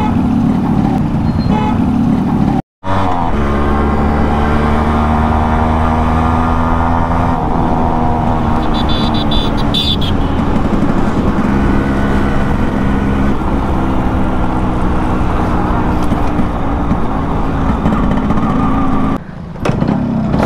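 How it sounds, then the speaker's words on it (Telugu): A Yamaha RX100 two-stroke motorcycle engine, started with a single kick, idles loud and close with a buzzy, rising and settling note and a brief cut near the start. "సింగిల్ కిక్కే స్టార్ట్ అవుతుందండి."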